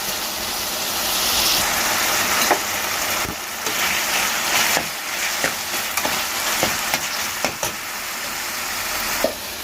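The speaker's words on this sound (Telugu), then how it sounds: "టమాటా కూడా కొద్దిగా సిమ్లో ఉంచి టమాటా కూడా బాగా మెత్తగా వేగాలి" Tomato and ginger paste sizzles steadily in a pan on low heat, a continuous close frying hiss punctuated by occasional stirring clicks and scrapes.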